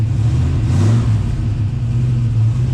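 Turbocharged LS-swapped 1974 Chevrolet C10 squarebody pickup engine runs in freezing weather with a steady, loud low rumble, close by and heard alone.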